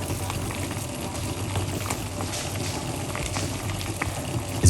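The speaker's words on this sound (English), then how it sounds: "It's boiling a little bit" Water bubbles and simmers steadily in a pot, a constant soft rolling burble with occasional louder pops.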